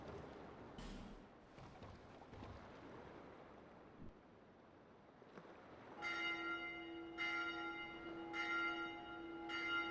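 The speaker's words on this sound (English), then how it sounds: "that's the same bell model as the giant bells in Dark Souls" A giant bell in the Dark Souls II video game tolls with deep, resonant strikes that repeat at a slow, even pace after a stretch of rumbling ambient game noise, loud and ringing with no talk.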